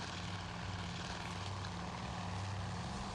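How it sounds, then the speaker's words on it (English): Torpedo bombers in the naval strategy game Task Force Admiral fly in a steady, loud propeller-engine drone, continuous and dense with no gaps. "Torpedo bombers making their runs again"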